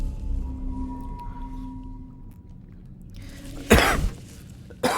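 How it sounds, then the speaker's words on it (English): A single sudden, loud cough bursts out close to the microphone over quiet video game background sound, followed by a brief second noise at the very end. "I didn't mean to just cough in your guys' ear"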